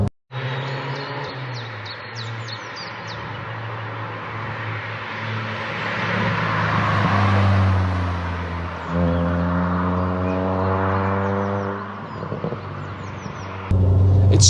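A 150-horsepower Ford Fiesta ST Mk5 ST150 hot hatch on the road gives a steady in-cabin engine drone with road rumble. The revs rise and fall through gear changes, climbing in pitch for stretches and then settling.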